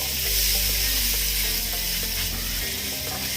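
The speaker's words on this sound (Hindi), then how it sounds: "इसे भी हमें 1 से 2 मिनट के लिए फ्राई करना है ताकि मसाला अच्छे से पनीर में कोट हो जाए" Paneer pieces tossed with salt and red chili powder fry in a pan, giving a steady close sizzle and hiss with a low hum underneath, no talking.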